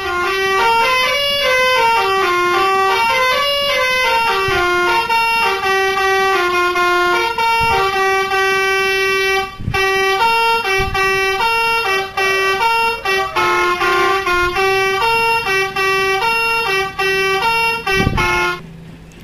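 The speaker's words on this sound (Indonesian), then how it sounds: "untuk klakson 2" Horn 2 on the STJ Iguazu bus mod in Bus Simulator Indonesia (BUSSID) blares a long, loud melodic tune with stepping notes, broken by a few brief gaps and thumps, for nearly twenty seconds.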